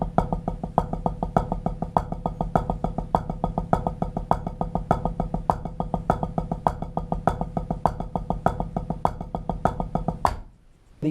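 Paradiddle rudiment played on a drum in steady 16th notes at a common pace: a fast, even stream of crisp stick strokes with regular accents, lasting about ten seconds before stopping abruptly, with no talking.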